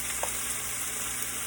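Pepper steak with ribeye and mixed vegetables sizzles and fries steadily in a pan while cornstarch gets stirred through, a dense continuous hiss with one faint scrape of the utensil.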